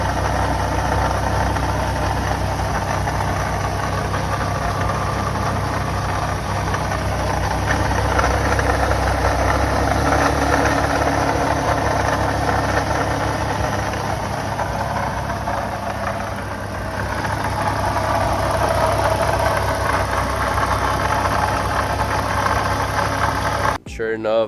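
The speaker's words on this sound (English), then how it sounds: "Sure enough, I saw that one of the pulleys was making noise." A 2014 Ford Mustang 3.7 engine idles with a failing water pump pulley, giving a steady, close mechanical hum and rattle. A voice talks over parts of it before a sharp click at the end.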